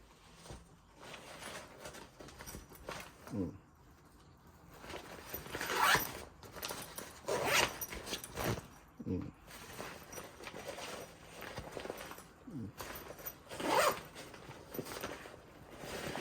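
Zipper on a Fjallraven Kajka 75L backpack being worked in several separate short pulls, quiet and close, with soft handling rustles between them and no talking.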